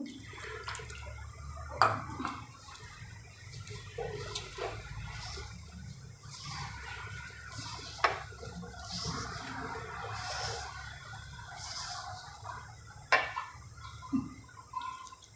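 Water is poured and splashed into wheat flour in a bowl while dough for instant sev is mixed, giving close, intermittent trickles, drips and wet dabbing sounds.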